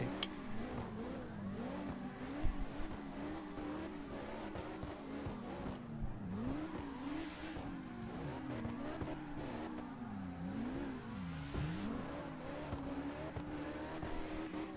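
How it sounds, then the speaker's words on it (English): A high-pitched V10 racing engine in a drift racing video game revs hard and continuously, its pitch rising and falling through repeated gear changes, loud and close throughout. "That is a brutal V10 I am hearing."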